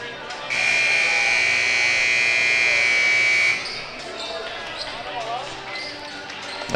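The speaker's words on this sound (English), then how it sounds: "There's the buzzer." At a basketball game in a school gym during the Goreville Invitational tournament, a loud electronic buzzer blares steadily for about three seconds. Then the murmur of the crowd and faint voices fill the hall.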